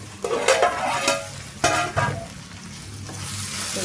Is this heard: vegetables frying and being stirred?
yes